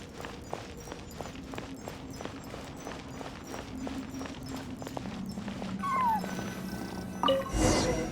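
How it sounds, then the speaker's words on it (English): A cat cries and meows in the video game Genshin Impact, a few faint, plaintive mews coming through a ticking, rhythmic game background, with a louder burst near the end. "And so, I followed the cat's cries to find my way out."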